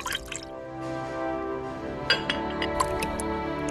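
Clear water poured into the rim of a Sichuan pickle jar to seal it, heard as soft trickling with light glassy drips and clinks over a steady tonal background.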